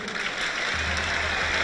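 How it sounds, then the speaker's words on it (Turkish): A large outdoor crowd applauds the final head wrestlers at the Kırkpınar oil wrestling championship in Edirne, a broad, continuous wash of clapping with a low drone underneath. "son final müsabakası yapacak olan baş pehlivanlara son kez kuvvetli bir moral alkışı istiyorum"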